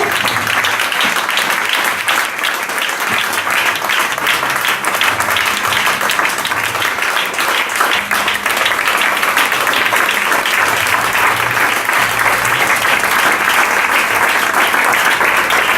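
A church congregation applauds for the word of God, steady loud clapping filling the room for the whole stretch with a continuous dense wash of hands and no pause.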